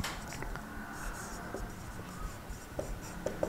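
Marker or chalk writing function pointer syntax on a board: close, steady scratching strokes with small taps and squeaks, quiet and continuous, without talk.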